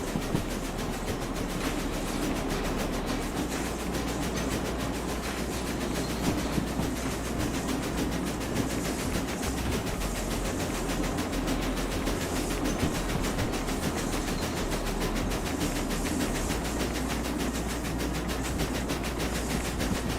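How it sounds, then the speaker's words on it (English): Steam locomotive in the Derail Valley game climbs a mountain grade, its wheels grinding and squealing against the rails over a continuous rumble and rhythmic clatter of the cars, loud and steady throughout. "Definitely getting a lot of wheel squealing here"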